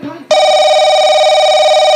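A telephone rings with a steady, loud electronic tone that starts abruptly after a brief moment of muffled talking and holds continuously.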